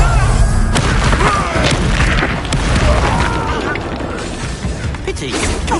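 Confringo fire-blast spell detonating during combat in the Hogwarts Legacy video game, a loud booming explosion with crashing debris and rumble that carries through the clip beneath game voices and battle effects.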